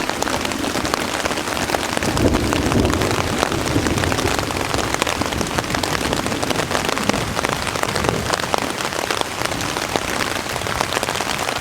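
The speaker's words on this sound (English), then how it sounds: "I hope you just heard that thunder." Heavy rain pattering steadily on a tarp overhead in a steady dense hiss, with a low distant rumble of thunder faintly underneath early on.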